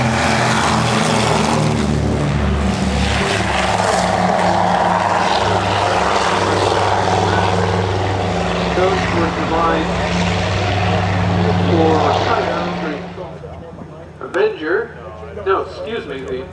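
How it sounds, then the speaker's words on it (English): A Douglas Dauntless warbird propeller aircraft makes its takeoff run at an airshow at the Military Aviation Museum in Pungo. A loud, steady piston-engine drone roars for about thirteen seconds, then drops away, and voices follow. "The Dauntless is beginning its takeoff run."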